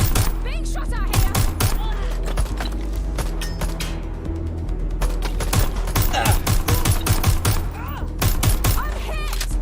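Sustained heavy gunfire in the video game Watch Dogs Legion, dense overlapping shots and rapid bursts with mechanical clatter, loud and continuous throughout, with speech mixed in.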